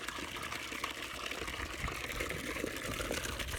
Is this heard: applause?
no